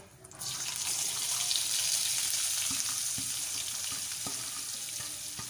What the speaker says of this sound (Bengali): পেঁয়াজের মধ্যে সামান্য একটু লবণ দিয়ে ভাজবো